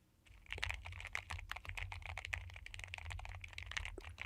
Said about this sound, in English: Sounds like keyboard to me.